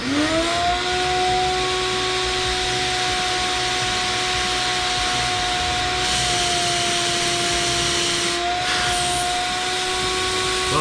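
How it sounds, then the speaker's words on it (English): Compressed air blasts through the cooling system of a 1969 Dodge Charger in a loud, continuous hiss with a steady tonal whistle, lasting the full ten seconds, close up. "as we blow air into the system to get everything out of the heads and blow it out"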